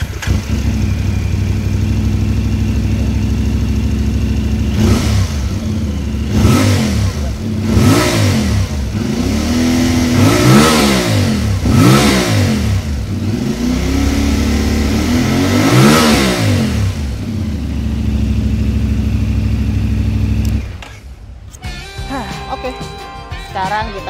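A CFMoto 450 adventure motorcycle engine runs loud and close, rising and falling through a series of repeated throttle blips and revs over a steady idle, then drops away abruptly to a quieter idle near the end.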